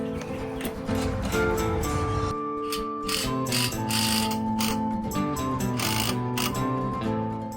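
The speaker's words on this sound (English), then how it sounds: "just gonna snuggle those bolts up a little bit because there will be more adjustments" Exhaust bracket bolts on a truck being snugged up with a ratchet, rapid mechanical pawl clicks in bursts over a steady tonal hum, moderately loud and close.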